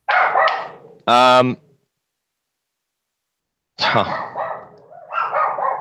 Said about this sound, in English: This dog's driving me nuts here.